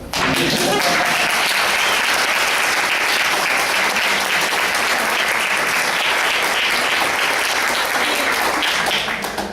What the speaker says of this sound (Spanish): Yo quiero que aplaudan